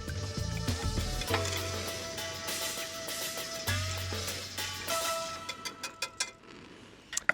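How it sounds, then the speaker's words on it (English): Crackling sizzle of sauce in a pan on a burner holds throughout over a low hum, with a run of sharp ticking clicks toward the end. "And the sauce gets a quick sizzle on a burner."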